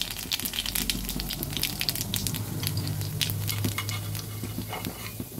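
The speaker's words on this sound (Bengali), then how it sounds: "কড়াইতে তেল দিয়েছি, তেল গরম হয়ে গেছে, আমি দিয়ে দিচ্ছি কালো জিরে ফোড়ন" Nigella seeds tempering in hot oil in a kadai for a vegetarian pumpkin and bean fry: a dense, steady crackling sizzle with rapid popping spatter, close and continuous with no voices.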